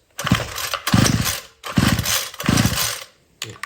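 A Homelite weed wacker two-stroke engine with suspected fuel-line trouble fires in short, loud bursts, revving up and cutting out roughly four times in a few seconds.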